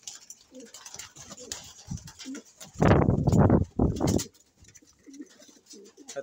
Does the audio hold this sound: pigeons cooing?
yes